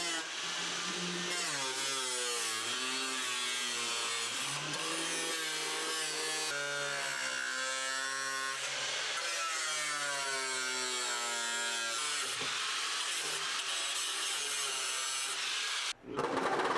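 A tool cuts through a car body panel to make an opening for coolant tubes feeding a rear-mounted radiator, a steady, close, loud grinding-saw drone with shifting pitch that runs almost without a break before stopping briefly near the end.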